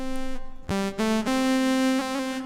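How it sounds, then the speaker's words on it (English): A bright, buzzy sawtooth-wave synthesizer tone from an Axe-Fx III with rich harmonics, shifting between a few steady pitches in short held notes, playing alone. "Now, a sawtooth sounds like this."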